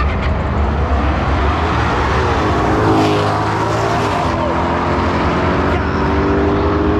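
Drag race cars, a ZL1 and a Z06, run at a drag strip with a loud, continuous engine roar that climbs in pitch as they accelerate, heard from close by over the whole stretch.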